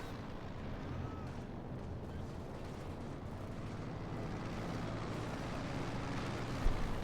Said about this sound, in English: submachine guns, DP light machine guns, you name it, they're just all firing right at the grenadiers